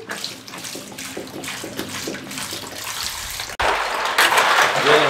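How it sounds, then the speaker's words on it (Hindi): Milk pours into a mango milkshake at a Karachi street drink stall, a steady liquid gush that turns louder and splashier partway through as the mixture is stirred. "दूध हमने डाल दिया और इस तरीके से इसको हिला लें"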